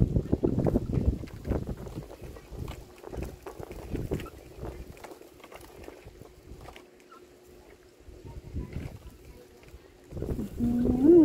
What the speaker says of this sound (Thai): ลมแรงนะคะ ตอนนี้นะคะ ลมแรงนะคะ